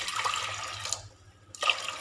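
Water is poured into a pressure cooker holding lentils, a close splashing pour that pauses briefly and then resumes.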